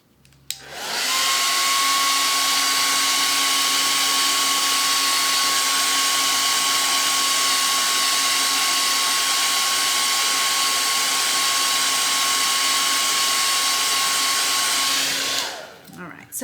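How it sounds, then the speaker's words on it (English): A blow dryer held close to a freshly stenciled painted sign roars steadily for about fifteen seconds with a constant whine, switching on and off cleanly with no talk. "I'm gonna hit it with the blow dryer real quick."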